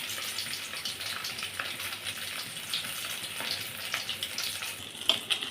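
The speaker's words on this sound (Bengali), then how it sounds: "আমার মাছটা ভাজা হয়ে গেছে" Fish tail fries in oil with a quiet, even hiss and scattered soft crackles, close but low in level, ending with a couple of sharper pops, no voices.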